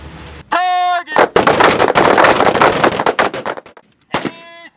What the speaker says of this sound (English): we were doing close range firing with the M16 or the M4, whichever weapon the Marines out here have